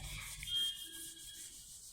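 Writing is rubbed off a board in a classroom-style maths lesson, making a brief, soft scrubbing swish that swells and then tapers off.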